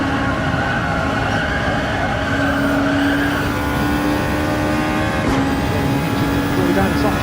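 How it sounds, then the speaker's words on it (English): Audi RS5 DTR Group 2 race car with a DRS wing, driven in a racing video game during a team cup league match, gives a loud, steady engine drone whose pitch rises and falls through gear changes without a break. "We're doing this in the Audi RS5"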